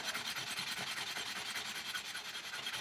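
Steel wool scrubbing rust off a motorcycle exhaust pipe, a dense continuous abrasive rasp with rapid back-and-forth strokes, close and steady throughout.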